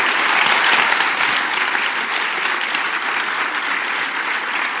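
A live audience claps loudly and continuously for several seconds after a televised political conversation, a dense even wash of applause with no talking.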